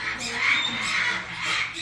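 Parrots squawking inside a bird-filled pet store, harsh nasal calls rising and falling in a continuous close, loud chatter with no talking.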